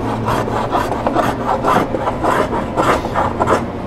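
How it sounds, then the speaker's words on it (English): A hand scraper working curved wooden drawer fronts, making steady repeated rasping strokes about twice a second, close and fairly loud with no talking. "once I get them close, then I'll be using a scraper here to finish them up"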